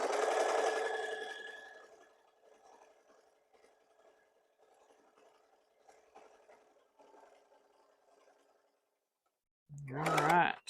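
A sewing machine stitches flannel strips for a baby blanket, a quiet mechanical whirr heard briefly at the start, then faint intermittent rattling and handling noise with a short louder burst near the end.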